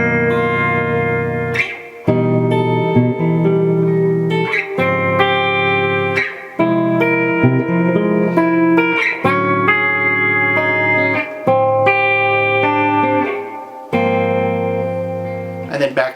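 Electric guitar chords from a piece, rich extended voicings rung out one at a time and left to sustain, each ringing a second or two with effects and reverb before the next, played alone with no talking.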